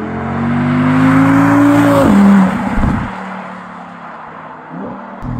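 Audi R8 2020 naturally aspirated 620 hp V10 revving up loud and close with a rising engine tone, then easing off into a lower, quieter idle-like rumble that echoes through a forest.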